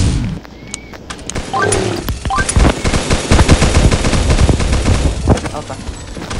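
Rapid automatic gunfire and bursts of shots from the mobile shooter game Pixel Gun 3D, loud and dense throughout a fast gunfight, with overlapping weapon sounds and game effects.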